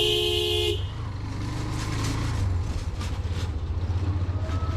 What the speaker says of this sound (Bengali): এই অটো রিক্সাগুলো যখন যাত্রী না থাকে তখন হচ্ছে এগুলা মানে কোন দিকে যাবে কোনো হদিস নাই, মানে সাপের মতো বাজাইতে থাকে।